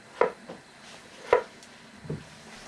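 Knife cutting peeled Prospère potatoes into thick fries: three distinct chops against a board spaced about a second apart, close and fairly quiet, with soft handling noise between them.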